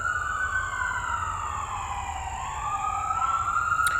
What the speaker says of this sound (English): Let me wait for the sirens.